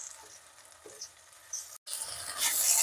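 Spice paste and softened tomatoes fry in a pan for an egg curry with masoor dal, giving a soft hiss that breaks off briefly, then returns as a louder, brighter sizzle.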